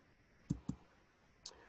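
Quiet mouse clicks on buttons in the Zoom app: two quick clicks close together, then a single softer click after a short pause, against a faint background hum.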